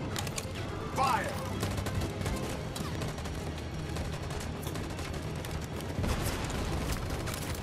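Gunfire erupts during a street battle in Detroit: Become Human, a dense rumbling barrage of shots and booms with sharper bursts near the start and near the end, loud and continuous, with voices faintly underneath.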